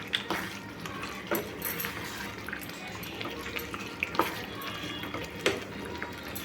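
Badi fries in hot ghee for Puri temple style besara, giving a soft, continuous sizzle with scattered pops and bubbling bursts, fairly quiet and close.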